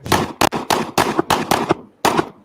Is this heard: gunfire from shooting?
yes